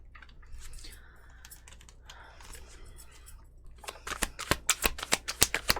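Tarot cards are handled quietly with soft rustling, then a run of crisp, close snapping flicks as they are shuffled and drawn, with no voices.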